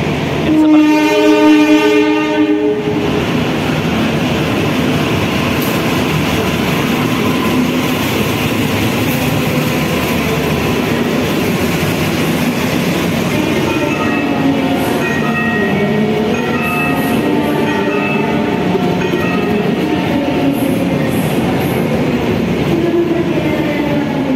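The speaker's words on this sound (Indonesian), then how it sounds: "ini jalur 4 ada kereta masuk" At a platform in an Indonesian station, a Pasundan economy-class train rolls in with a loud, sustained rumble and a long horn blast at the start, wheels clattering and brakes squealing as it draws close alongside.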